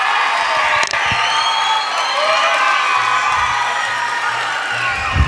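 Loud, sustained cheering, whooping and applause from a school concert crowd at the Springdale High School Bands' 2017 Christmas concert, greeting band director Mr. Mathis. It is a steady roar with a few voices standing out.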